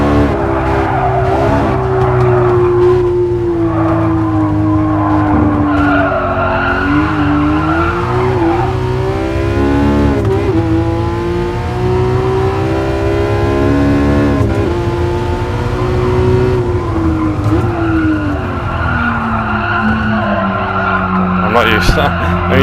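Sustained tire squeal from a GR spec-style sim race car understeering and losing front grip, heard loud and continuous with a pitch that wavers and slides, mixed with engine tone and a voice talking over it.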